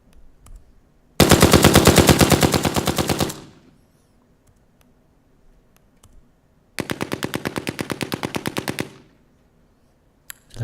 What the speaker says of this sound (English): So that was incoming. That's what it sounds like when you're being shot at.